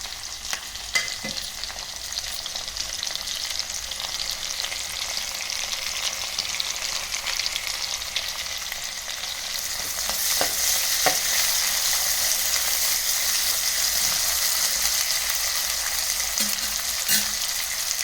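Slit green chilies and onions fry in a pan, giving a continuous even sizzle that grows louder and brighter halfway through, with occasional stirring clicks and no talking.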